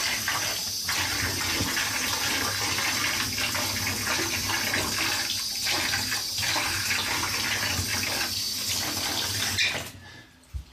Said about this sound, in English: I'm going to rinse it off now